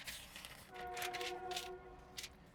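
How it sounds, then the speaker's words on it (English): A train passes at a distance, its horn sounding a sustained tonal blast over faint rumble, soft and far off behind a quiet reading voice. "I hope you don't hear that train over me."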